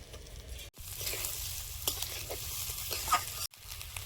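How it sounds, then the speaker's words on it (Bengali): Kohlrabi and potato fry in a pan with chopped onion sprinkled in, a steady close sizzle with stirring scrapes that cuts out briefly twice. "ওলকপি আলুটা ভাজা ভাজা হয়ে আসছে"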